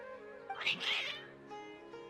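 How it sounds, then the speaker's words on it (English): Cats in the Genshin Impact video game let out a strained, drawn-out meow and caterwaul, fairly close and moderately loud against a faint background hum. "Your cats seem pretty worked up."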